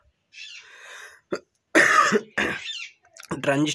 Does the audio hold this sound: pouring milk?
no